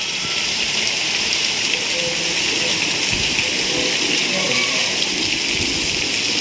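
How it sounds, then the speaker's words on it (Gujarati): Rain pours continuously with a bright, steady hiss, and faint indistinct voices murmur low in the background. "ફરી વરસાદ ચાલુ થઈ ગયો છે"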